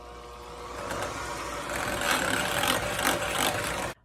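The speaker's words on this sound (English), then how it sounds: "I'm going to mix that up with the mixer with the butter" Electric hand mixer beating canned pumpkin with butter, a steady motorized whir running continuously at moderate loudness before cutting off abruptly.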